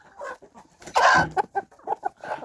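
Hens and roosters of Araucana and Orloff breeds cluck in bursts, with one louder squawk in the middle, close by on a small farm with other poultry around.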